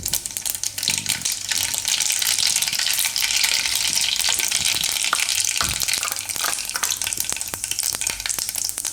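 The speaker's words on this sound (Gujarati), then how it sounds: "તો તેલ આપણું ગરમ થઈ ગયું. એમાં આપણે થોડીક રાઈ નાખીશું અને જીરું." Mustard seeds and cumin crackle and sizzle steadily in hot oil in a pan, a close, dense frying hiss with scattered sharp pops and occasional stirring clinks.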